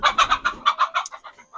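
Chickens cluck in a quick run of about a dozen close, fairly loud notes, the first few over a low rumble, then fading into softer trailing clucks.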